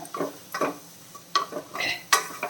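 Ground pepper and spice powders being stirred into a pepper chicken curry base in a pan, irregular spoon scrapes and clinks against the metal over a faint sizzle, close up and without speech.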